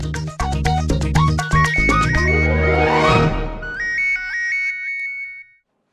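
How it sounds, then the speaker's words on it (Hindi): A mobile phone ringtone plays alone at close range, a fast bright electronic melody of repeated tones that ends in a short trailing phrase before stopping. "किसका फोन है?"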